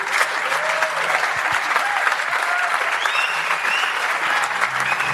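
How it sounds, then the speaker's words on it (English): A large audience at a school strike for climate event gives a big, sustained round of applause, with loud, dense clapping that stays steady throughout and a few faint voices mixed in. "give them a big round of applause"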